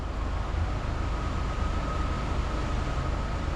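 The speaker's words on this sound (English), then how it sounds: "The whole bridge shakes when vehicles drive over it. It rumbles." Vehicles rumble across a historic bridge near Revelstoke, British Columbia, producing a steady, loud, low broadband roar with a faint hum that continues throughout, with no voices.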